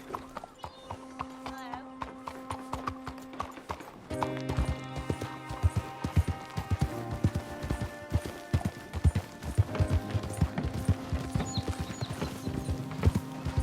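Horse hooves in Red Dead Redemption 2 clip-clop in a steady, brisk rhythm throughout, close and clear, over a soft musical background.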